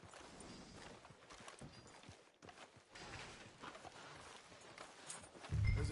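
Horse hooves clip-clopping in Red Dead Redemption 2, a faint, uneven patter of steps on a town street under a low wash of game ambience, ending in a short burst of louder noise.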